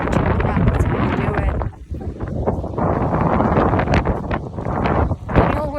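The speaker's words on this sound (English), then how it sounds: "It's a little windy out here" Strong lake wind on the Grand Haven South Pier, Lake Michigan, buffets the microphone with a loud, continuous roar and rumble. It dips briefly and then gusts back up.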